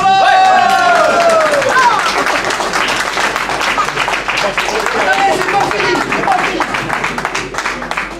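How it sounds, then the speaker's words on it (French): Applause and clapping from a crowd at a French workplace farewell gathering honouring a train driver turned chief instructor, loud and sustained for several seconds, with chatter and a voice over the clapping. "ça mérite des grands applaudissements"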